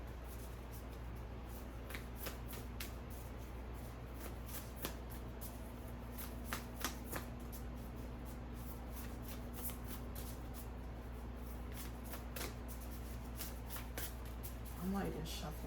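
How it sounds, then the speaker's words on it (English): A deck of cards is shuffled near and fairly faintly, with repeated quick riffling bursts coming in irregular clusters over a low steady hum. "I'm not even shuffling fast enough to even get them."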